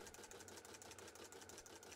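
A sewing machine sews a decorative multi-zigzag stitch at 6.0 width and 1.0 length, its needle chattering in a fast, even mechanical rhythm, close and steady with no talking.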